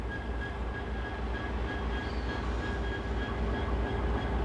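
The Indian Pacific passenger train crossing Australia runs at a steady pace, a loud continuous rumble with rhythmic low wheel thumps and a faint tonal whine above.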